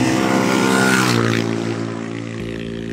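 An enduro motorcycle engine screams at full throttle during a Pangasinan enduro rally, loud and close, its pitch rising then easing as it passes.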